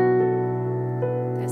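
Minor pentatonic scale pattern played over a chord progression, sustained tones ringing steadily with a new note entering about once a second, clear and alone without talk.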